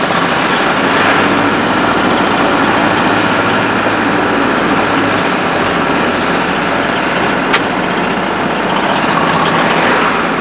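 A motorcycle rides through city streets in Denver, its engine running as a steady, loud broadband rumble mixed with wind noise, constant throughout with no pauses.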